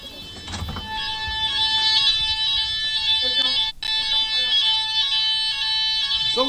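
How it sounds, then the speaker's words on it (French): Hotel fire alarm rings loud and steady with a shrill, piercing electronic tone, nearby people talking over it. "on entend l'alarme de l'hôtel"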